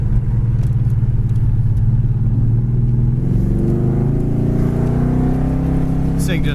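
A 1969 Ford Cobra R-code 428 four-barrel V8 pulling hard in second gear, a loud close engine roar rising steadily in pitch as it accelerates, with a voice speaking over it.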